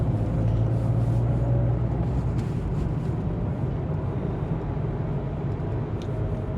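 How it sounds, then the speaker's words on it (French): A car drives a wet road in pouring rain, a loud continuous rush of tyre spray and road noise from inside the car, steady throughout with no talk. "Je roule tranquille parce que ici, j'entends dans la voiture, la route elle est plus mouillée que plus haut là-haut."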